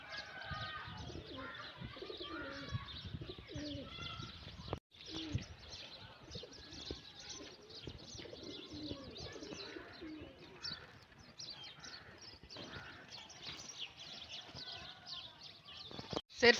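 Kept pigeons on a village rooftop coo and chirp continuously at close range, soft repeated calls layered over one another with a brief pause partway through.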